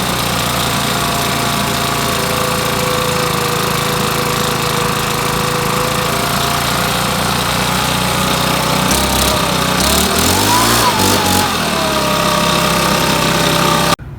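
A gas string trimmer engine runs loud and close for the whole stretch with a buzzing, rattling drone, its pitch shifting and rising partway through before cutting off abruptly at the end; nobody speaks.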